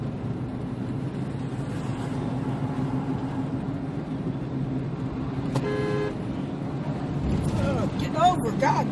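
Steady road traffic rumbles throughout, with a short car horn toot near the end of the stretch and more vehicle movement building after it.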